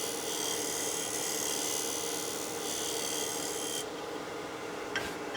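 Skew chisel scraping dense wood spinning on a lathe, giving a continuous close rasping hiss that cuts off abruptly near the end, followed by a brief faint tick.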